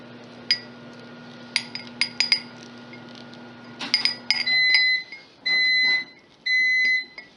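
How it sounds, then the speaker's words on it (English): A microwave timer goes off after the third 30-second round of melting chocolate: three loud, steady electronic beeps near the end, preceded by scattered light clinks of glass and dishes in a quiet kitchen. "The timer just went for the third 30 seconds on the chocolate."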